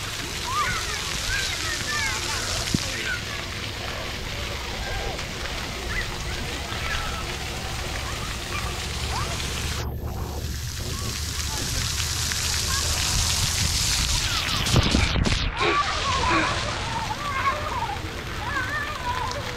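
Water sprays and splashes steadily at an outdoor splash pad, a continuous hissing patter close by, with a few sharper sloshes and bursts toward the end.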